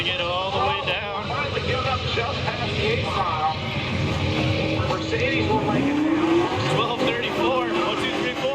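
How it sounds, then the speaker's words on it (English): A Mustang drag car roars down the track, its loud engine note sweeping upward over crowd and track noise, with a voice talking throughout. "the clip that we've all just watched together is the Mustang going down the track"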